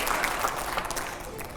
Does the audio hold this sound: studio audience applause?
yes